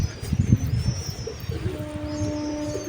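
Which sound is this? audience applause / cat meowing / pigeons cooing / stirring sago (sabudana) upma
pigeons cooing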